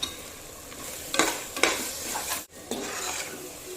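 Tomatoes, masala, salt and curd being stirred and sautéed in a pan for chicken biryani: a continuous soft sizzle under repeated scraping strokes of a spoon against the pan, close by, with no talking.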